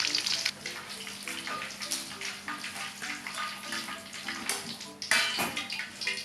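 Potatoes fry for sambal goreng in a home kitchen, giving a steady close hiss and crackle of hot oil with brief louder sputters and bursts toward the end, without any talking.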